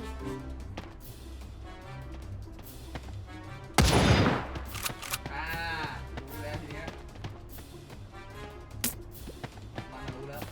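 A single loud burst of gunfire erupts partway through, standing out over a busy, steady game soundscape with background music, in the mobile game Sausage Man.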